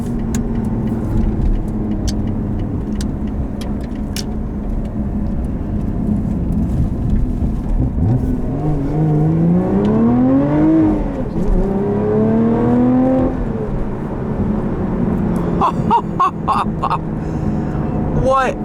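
A 2021 Lotus Evora GT engine hums steadily, then revs up in rising sweeps mid-clip, surging a couple of times before settling; recorded from inside, with faint clicks near the end.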